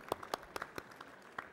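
Sparse, faint claps from a small audience at a diploma award ceremony, a handful of separate, distant-sounding hand claps scattered unevenly across a brief moment.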